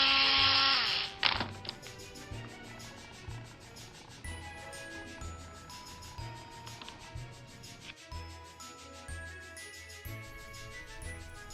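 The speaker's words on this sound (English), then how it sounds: "2 holes were then drilled through the main piece to screw all the pieces together." Styrene plastic being drilled through for a gauge 1 model locomotive part, a brief high power-drill whine at the start followed by quieter intermittent rattling and handling clicks.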